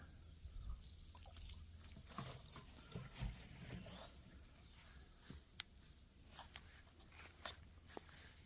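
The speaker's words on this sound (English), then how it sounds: "Pour some fuel down there" Fuel is poured over a fire ant nest in a garden, producing a faint, quiet trickle. Scattered soft clicks and rustles sit over low background noise.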